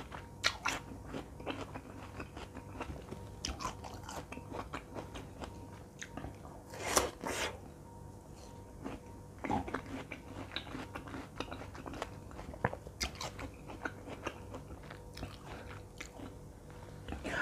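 Crunchy biting and chewing of chocolate-coated rose apple, close-miked for ASMR, with repeated crisp crunches, one louder bite near the middle, and steady soft mastication in a quiet room.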